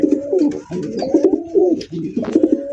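Several pigeons coo in a steady, rolling rhythm at close range on a pigeon farm, the deep throaty calls overlapping and repeating with short pauses.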